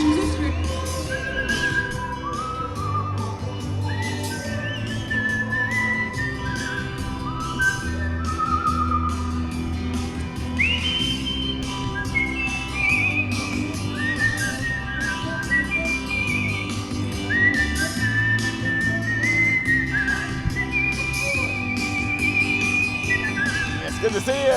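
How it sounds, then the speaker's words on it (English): Several people whistle short melodic phrases outdoors in Pasadena, rising and falling over a busy crowd murmur with scattered voices and music in the background. "We're whistling for all the world today here in Pasadena."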